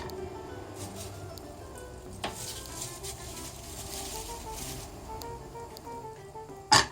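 Butter sizzles and crackles softly in a pan, a steady frying hiss with a few sharp pops and clinks.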